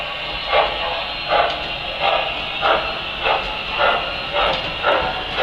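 Steady, rhythmic steam chuffing from a standard gauge Pennsylvania PRR 384 model freight train, regular puffs repeating about every half second over a constant hiss, close and moderately loud.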